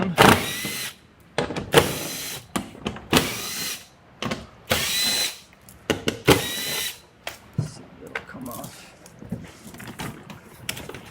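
A power tool drives screws out of a 2014-2016 Hyundai Elantra door panel during a window regulator replacement, whirring in short, loud bursts separated by brief pauses, some quick, some longer.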